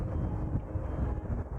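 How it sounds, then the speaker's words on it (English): Strong gusting wind in stormy weather buffets the microphone outdoors beside a MK2 Seat Leon Cupra R, a steady low rumble that fills the clip without pause. "Hopefully you can hear with the noise of the wind because it is really windy"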